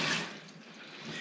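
A rusty Schwinn bicycle wheel that has just been cleaned is sprayed with water, a short hissing rush that starts loud and close, dips, then swells again, with no talking.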